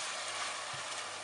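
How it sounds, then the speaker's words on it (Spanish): Onion frying in a pan for pizza tomato sauce, a faint, steady sizzle and crackle with a small soft knock near the middle. "Añadiremos con cuidado la cebolla y la dejaremos que se vaya dorando"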